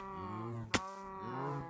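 Cows in Minecraft low in drawn-out, overlapping moos from a crowded pen, fairly close, with a sharp click partway through and no speech.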